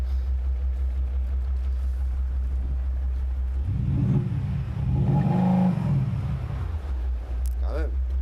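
A Maserati Ghibli diesel with a sound enhancer plays a synthetic engine note that swells into a rumbling rev midway and settles back, heard from inside the car over a steady low drone, with people talking.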